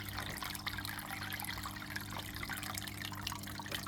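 An Aquael Versamax 2 aquarium filter pours a steady, close waterfall trickle with constant splashing texture and a low motor hum beneath, unbroken for the whole stretch.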